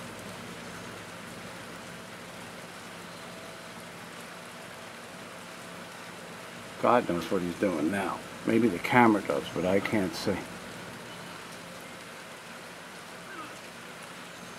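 Rain falls steadily outdoors over a deck-building site as a soft, constant hiss, with someone speaking over it partway through.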